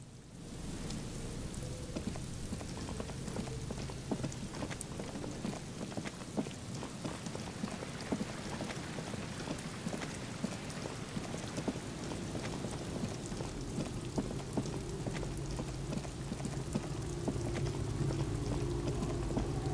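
Steady, dense rain in the video game Disco Elysium patters continuously on surfaces, a constant hiss with fine drops, slightly building toward the end, no voices.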